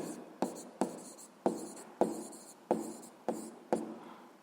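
A pen writes on paper in a physics exercise, a string of about eight short, evenly spaced scratchy strokes, each starting sharply and then fading, close and fairly quiet.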